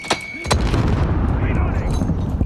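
Grenade blast in a video game: a sharp burst and a second sharp crack near the start, then a dense rumbling roar that carries on loudly through the rest.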